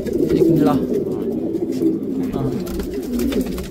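Quality racer pigeons in a loft coo in a steady low murmur, several birds overlapping continuously and fairly close.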